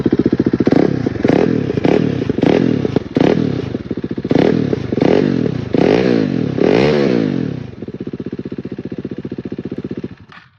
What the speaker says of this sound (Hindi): एग्जॉस्ट का साउंड है, आप एग्जॉस्ट में ये तो आइडल पे है